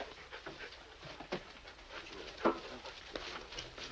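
Faint, rhythmic dog panting comes through a hissy, noisy background in a 1948 film scene, with quick, soft breaths repeating throughout.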